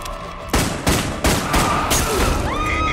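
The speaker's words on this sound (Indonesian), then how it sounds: "Paul pun menembak perampok itu hingga mobilnya menabrak di sisi jalan" Gunshots ring out in a film scene in which a robber's car is fired on, four sharp close blasts in quick succession followed by a lingering ring and whine.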